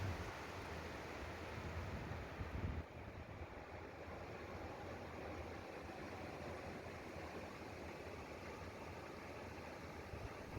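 Small sea waves breaking on a sandy beach at Mandarmoni produce a steady, broad wash of surf with wind, fairly quiet and continuous, with no voices.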